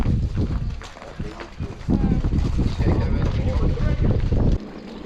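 Heavy wind buffeting the microphone in loud, gusty bursts during a cross-country mountain bike ride near Calais, with a brief easing near the end.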